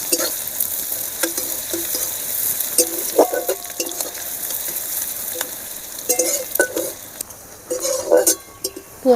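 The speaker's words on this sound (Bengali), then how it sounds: "পেঁয়াজটা ভাজা হয়ে গেছে" Onions sizzle in a pan of oil with whole garam masala for a Bengali katla fish kalia, a continuous frying hiss broken by spatula stirs and metallic clinks against the pan.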